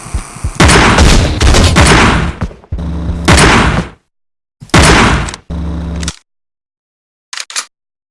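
Heavy rifle fire in the video game Teleglitch comes as loud, close bursts of rapid shots separated by abrupt silences, ending with a couple of short, sharp reports, with no talking over it.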